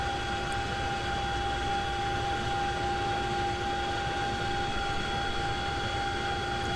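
Simulated CH-47 Chinook helicopter in X-Plane 11 on a runway, a steady droning engine and rotor hum with constant whine tones, unchanging throughout.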